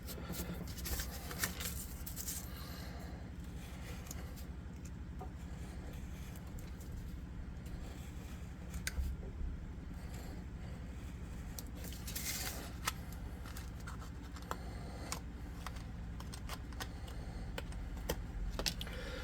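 A blade cuts texture into sturdy, plasticky cardstock from a floor mat, not slicing all the way through. Crisp scraping and cutting strokes come in irregular bursts over a faint background hum.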